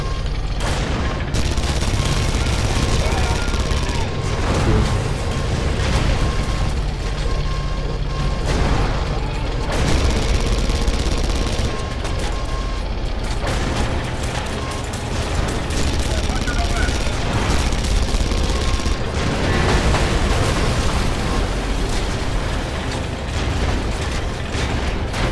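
Tank cannon fire and explosions in the Red Faction video game come as a dense, continuous barrage of loud booms, blasts and rattling gunfire that never lets up.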